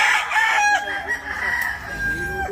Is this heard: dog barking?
no